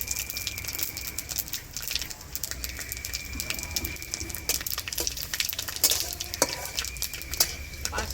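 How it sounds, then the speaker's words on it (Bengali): Bay leaves, dried chillies and panch phoron sizzling in hot oil, a steady close crackle and hiss with scattered pops throughout. "তেলটা গরম হয়ে গেছে, এখন তেজপাতা আর শুকনো লঙ্কা ফোড়ন দিয়ে দিচ্ছি। এখন দিয়ে দিচ্ছি পাঁচফোড়ন।"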